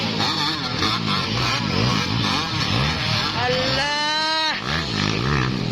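Local enduro motorcycles race with loud, droning engines, and one bike revs up sharply in a rising whine partway through. Crowd noise and people talking sit under the engines.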